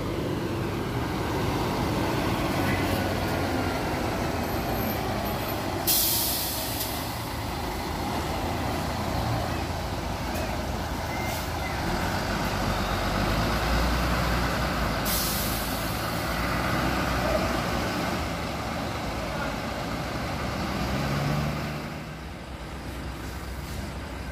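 A Sudiro Tunggal Jaya bus idles and creeps into Ngawi bus terminal at night, its heavy diesel rumble steady under terminal noise, broken by two sharp hissing air-brake releases.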